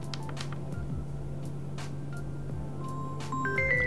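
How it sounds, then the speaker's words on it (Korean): A phone rings after a Samsung SmartThings Station's find-my-phone button is double-pressed, playing a quiet melodic electronic ringtone of short beeping tones that grows slightly louder toward the end. "지금 요 두 번 눌러 휴대전화 찾기 했거든요."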